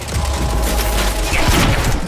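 Heavy pistol gunshots in the video game Quantum Break: loud, crowded booms and mechanical clatter in quick succession, with a sharper blast around the middle, close and intense throughout.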